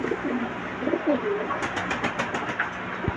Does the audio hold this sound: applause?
no